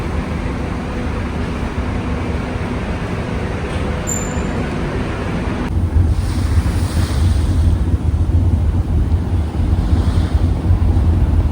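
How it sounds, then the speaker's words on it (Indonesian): Large ocean waves break on the shore in a continuous roaring wash, with gusty wind buffeting the microphone. The surf grows louder and fuller partway through. "Ombaknya cukup besar ya teman-teman."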